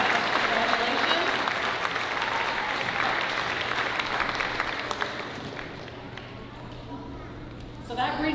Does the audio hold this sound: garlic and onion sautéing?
no